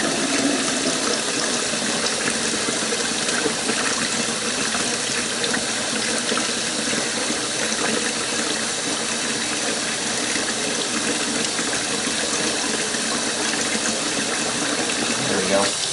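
Water runs continuously from a tap during handwashing, a loud, close, steady rush of water that lasts the whole stretch with no break.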